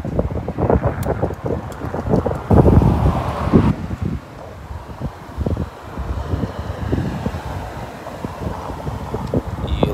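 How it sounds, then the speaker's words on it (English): Gusty wind during a wildfire in Portland, Oregon, buffets the microphone with loud low rumbles and rustling, rising and falling in strong bursts throughout. "And it's windy."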